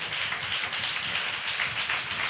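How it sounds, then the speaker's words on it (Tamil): A church congregation claps their hands raised above their heads, making a dense, continuous patter of many hands at a moderate distance. "நம்பிக்கை இருந்துச்சுன்னா தலைக்கு மேல கூட கைத்தட்டி தேவனை மகிமைப்படுத்து"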